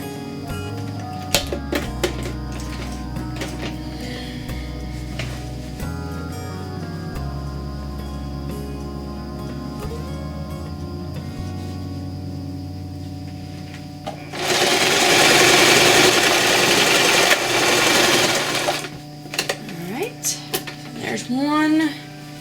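A sewing machine stitches the corners of a floor pouf made from thrifted fabric, starting with slow, uneven bursts of stitching and then a loud sustained run near the end, recorded close up with a voice speaking at times.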